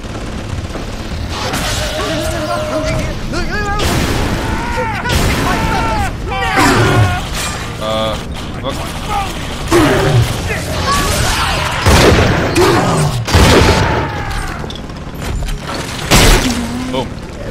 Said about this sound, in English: I'm just kinda like shooting at this point.